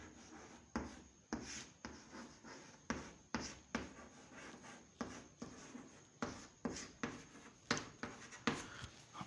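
A marker or chalk writes out an example on a classroom board in short scratchy strokes with small taps, an irregular run of faint, close scribbles and no talking heard.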